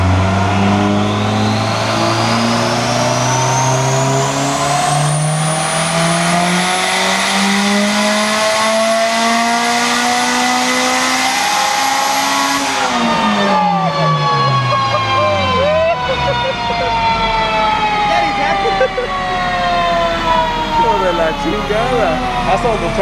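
A Honda Del Sol engine on a dyno climbs steadily in a long, loud rising wail through a VTEC changeover, peaks, then falls away as it winds down, heard up close.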